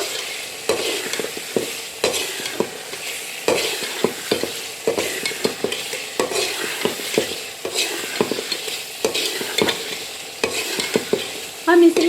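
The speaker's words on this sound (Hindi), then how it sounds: "हम इसलिए ज़्यादा चिकन को भूनते हैं" Chicken stir-fried in a pan with steady sizzling and repeated scraping strokes of a spatula, close and loud, continuing evenly without talk until a brief louder clatter at the end.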